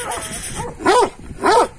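A dog whimpers and yips in a few short, rising-and-falling cries, two louder bursts close together, fairly near.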